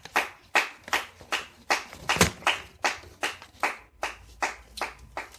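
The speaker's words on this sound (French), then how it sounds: "Acclamons encore pour la parole de Jésus." A church congregation claps together in a steady, evenly spaced rhythm, about two claps per second, close and moderately loud, with no talking.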